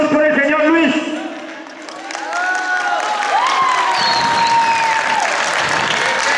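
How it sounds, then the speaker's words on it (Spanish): A crowd applauds and cheers at a basketball freestyle competition in Colombia, loud and sustained under an announcer's voice, with whistles and shouts rising above the clapping. "aplausos por el señor Luis."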